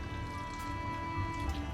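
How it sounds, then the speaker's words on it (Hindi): A glass of water poured into a pot of carrots on a stove for instant gajar ka halwa, a steady low splashing fill lasting under two seconds amid kitchen hum. "तो मैं इसमें डालती हूँ 1 गिलास पानी।"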